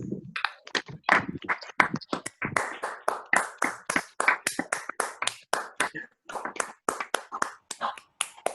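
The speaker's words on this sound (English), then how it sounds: "Let's have a real round of applause." Scattered, uneven claps from a small graduation audience at a school ceremony in Bangalore, individual sharp hand claps close by in a loose rhythm with brief gaps, no voices.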